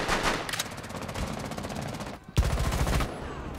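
Rapid automatic gunfire in Rainbow Six Siege, loud sustained bursts with a short pause, then a heavy shot and another burst, no talking.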